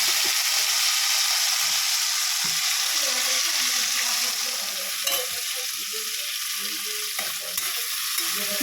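Spice paste fries in hot oil with panch phoron and dried red chillies for a spinach dish, producing a loud, dense, steady sizzle close up, broken by a few stirring knocks, with no voices.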